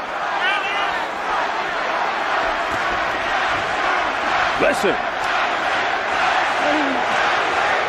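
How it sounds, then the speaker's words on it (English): A large arena boxing crowd roars and chants at the 1997 Mike Tyson versus Evander Holyfield fight, a dense, loud, sustained wall of yelling with a commentator speaking over it. "Many yelling Tyson."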